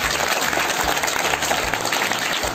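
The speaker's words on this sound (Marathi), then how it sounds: "टाळ्या वाजवा." Children clapping together in applause, a dense continuous patter of many small hands held at a steady level throughout, loud and close.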